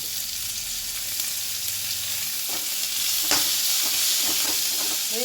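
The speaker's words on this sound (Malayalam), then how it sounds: "ഇതൊന്ന് മൂടി വെച്ച് വഴന്ന് വെച്ചേട്ടോ" Onion, green chilli, coriander leaves and curry leaves fry and sizzle steadily in a pan, with a few scraping stirs near the end.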